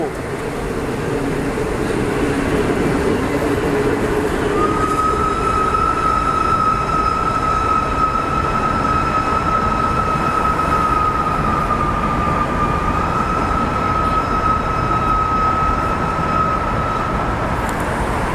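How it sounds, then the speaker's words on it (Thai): A steam train, special service 901, rumbles steadily past through Lak Si railway station, loud and close, with a long sustained high squeal of wheels or brakes through the middle of the pass. "ก็ผ่านสถานีรถไฟหลักสี่นะครับ เป็นที่เรียบร้อย"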